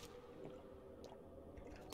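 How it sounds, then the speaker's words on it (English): A character drinks water in the survival game 7 Days To Die, making a short, quiet, squishy gulping of liquid with a few soft wet pulses and no voices. "So let's drink a water"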